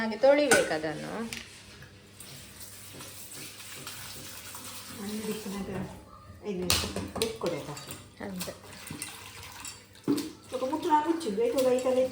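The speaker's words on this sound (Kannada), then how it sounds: "ಅದಕ್ಕೆ ಎಲ್ಲ ಚೆನ್ನಾಗಿ ತೊಳಿಬೇಕು" Touch-me-not plant leaves being washed in water for a village-style chutney, with intermittent splashing and sloshing bursts alongside a person talking in between.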